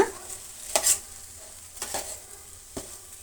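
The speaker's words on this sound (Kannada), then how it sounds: "ರೈಸನ್ನು ನೀಟಾಗಿ ಕಲಿಸ್ಕೊಳ್ಳೋಣ" A spoon scrapes and stirs rice through a frying pan for rice bath, with a low sizzle beneath a few distinct scraping strokes spaced about a second apart, close and fairly quiet, no talk.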